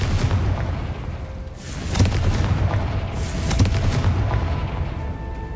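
A Confringo spell explodes in Hogwarts Legacy, a set of deep booming blasts with rumbling bursts about two seconds apart over a low ambient drone, loud and close.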